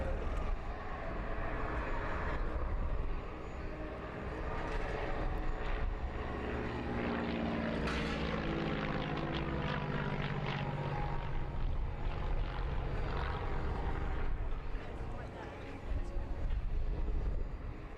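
A North American Navion propeller aircraft flies at an air display, a steady, loud engine drone with a rising and falling pitch sweep as it passes, continuous throughout with no clear speech.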